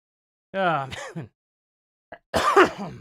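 A person coughs and clears their throat in two short, harsh bursts separated by a pause, close to the microphone.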